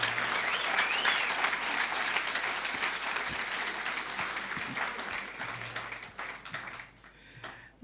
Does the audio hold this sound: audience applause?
yes